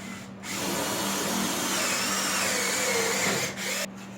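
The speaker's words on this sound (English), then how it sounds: "I'm just going to drill it out" A power drill drilling out a pilot hole whirs steadily for several seconds after a brief start, loud and close, then cuts off near the end.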